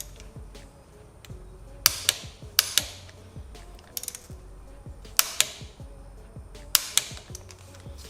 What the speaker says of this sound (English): we'll go ahead and torque these down now